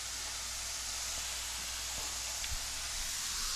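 Onion-topped burger patty searing on a hot pan for an Oklahoma onion burger, a steady broadband hiss throughout with a faint low hum beneath and no talking.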